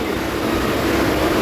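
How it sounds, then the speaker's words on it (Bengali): A Barrackpore local commuter train rolls along with a steady, close rumble and faint rail clatter throughout, no voices. "9:40 ব্যারাকপুর লোকাল ছিল, ওটা পেয়ে গেছি।"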